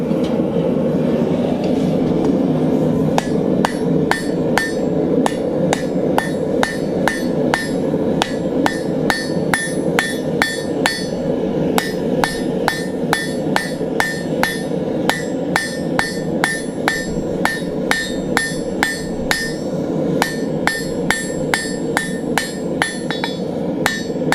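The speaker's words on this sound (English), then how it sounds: "holding the material at an angle, hammer at an angle, half on, half off blows to establish that point" Rapid, steady hand-hammer blows ring out on hot metal on an anvil, drawing a round taper, dozens of sharp clanging strikes in a quick even rhythm over a constant low roar.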